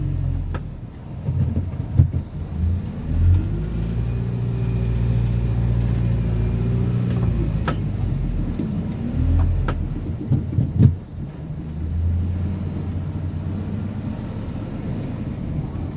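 Yanmar YM 531 A tractor pushing a dirt pile for a six-wheel dump truck, its engine droning and revving hard while the wheels spin free, a low rumbling roar that swells and dips, with sharp clanks throughout.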